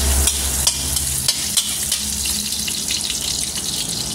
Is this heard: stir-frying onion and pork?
yes